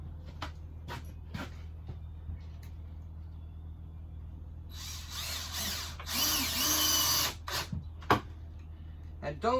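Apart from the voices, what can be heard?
power drill driving screws into wood for a cat shelter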